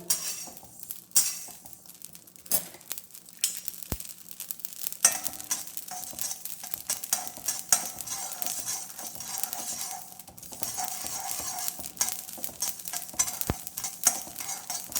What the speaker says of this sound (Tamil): இது நல்லா கடுகு பொரிஞ்சாச்சு பாருங்க.